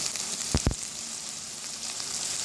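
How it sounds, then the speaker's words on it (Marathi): Onions fry in a pan for dried bombil, a steady close sizzle hissing throughout, with a couple of brief knocks partway through. "इथे बघा आपला कांदा भाजतोय"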